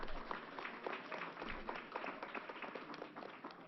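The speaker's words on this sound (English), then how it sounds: "Let's give her another round of applause." An audience gives a round of applause at a news conference, a steady wash of many hands clapping, faint and distant throughout.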